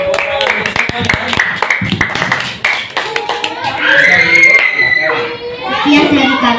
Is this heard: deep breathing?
no